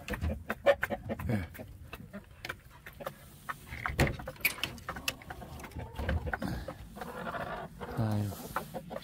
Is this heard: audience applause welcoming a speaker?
no